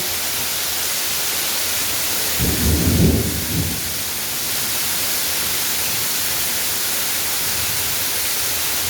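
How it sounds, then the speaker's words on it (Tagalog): Heavy rain pours in a dense, constant hiss onto a flooded garage. About a third of the way through, a short low rumble of thunder rolls in, then the downpour continues alone. "Panahonin ko na yung ulan."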